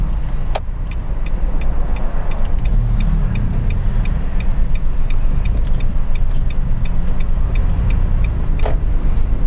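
A manual car sits in first gear with a steady, loud engine drone and road rumble throughout, plus a faint regular ticking and a couple of brief clicks, with no one talking.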